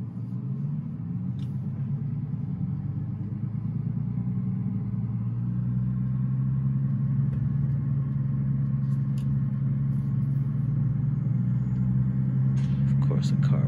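Truck engine in a driving video game played on a Logitech G27 wheel, a steady low rumble that rises slightly in pitch as it accelerates, with a few faint clicks near the end.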